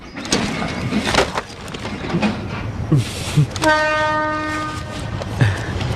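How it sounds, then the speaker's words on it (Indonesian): A cartoon train pulls into a station, with clattering wheel knocks and a sustained horn blast in the middle. "Wah, keretanya sudah datang."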